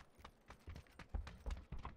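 Faint, quick hoofbeats clip-clop in an even rhythm, a horse trotting at a distance in the video game PUBG.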